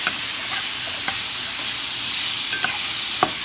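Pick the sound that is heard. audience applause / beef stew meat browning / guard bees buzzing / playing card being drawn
beef stew meat browning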